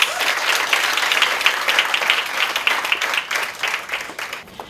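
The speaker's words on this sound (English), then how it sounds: "So please give our judges a big round of applause." An audience at the Mrs Africa 2022 awards ceremony gives the judges a round of applause: loud, close, continuous clapping with a busy, uneven texture that eases off slightly toward the end.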